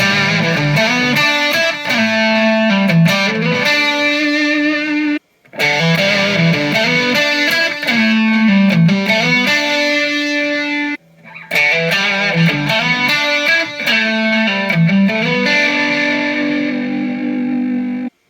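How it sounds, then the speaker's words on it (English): A loud distorted electric guitar plays a sustained lead melody through a Canyon delay pedal, with echoing delay repeats, in three phrases separated by brief pauses. "I'm going to do some quick lead samples."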